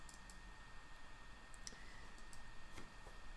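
A computer mouse gives a few faint, sharp clicks, including a quick double click, over a low steady background hiss.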